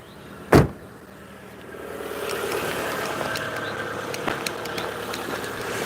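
A Proton Saga Iswara car engine is started after a sharp knock, then idles with a steady low hum and a few light clicks and taps around it.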